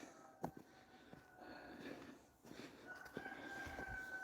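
Chickens cluck and a rooster crows nearby, with scattered squawks over steady outdoor background noise.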